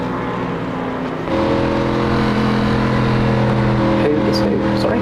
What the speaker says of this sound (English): I just heard somebody just on the limiter there, just revving the bejesus out of the motor.